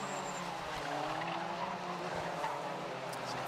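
Club race cars at Anglesey circuit drive into Rocket Corner, a continuous loud engine roar with tyres squealing and scrubbing through the turn.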